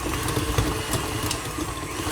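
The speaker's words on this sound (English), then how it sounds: "In the bowl of my stand mixer fitted with the paddle attachment, I have the butter, and I'm just going to briefly beat that." A stand mixer fitted with a paddle attachment beats butter in its bowl, giving a steady mid-pitched motor hum with a faint rhythmic churning throughout.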